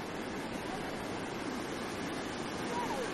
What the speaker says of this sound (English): Isn't the noise of water amazing?